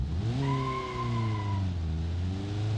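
A car with a CVT transmission and open differential pulls away, its engine note rising in a steady, loud drone with a faint tire squeal on top and no voices over it.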